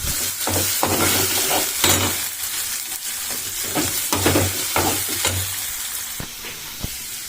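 Vegetables sauté in a pan with turmeric, a cinnamon piece and cloves, giving a continuous close sizzle and hiss broken by irregular scraping and clacking as they are stirred.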